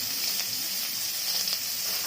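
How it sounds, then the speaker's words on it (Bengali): Dried red chillies, bay leaves and whole garam masala sizzle in hot oil in a kadai, a steady, even hiss at moderate volume with no other sounds. "কড়াইয়ে তেল দিলাম, ফোড়ন দিয়েছি, শুকনো লঙ্কা, তেজপাতা,"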